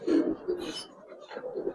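Pair of racer pigeons cooing softly at close range, a few low murmuring coos with brief pauses between them in a quiet room.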